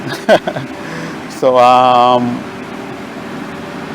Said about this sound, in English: The truck is just passing.